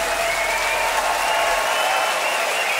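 Steady, loud applause and cheering from a blues concert audience, continuous dense clapping with crowd noise and no break throughout.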